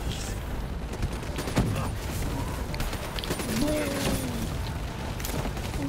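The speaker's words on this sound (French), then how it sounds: "Check ma mitraillette." Submachine gun fire in Call of Duty: Black Ops III, with bursts of rapid shots and explosions in a busy game battle, while people talk over the action.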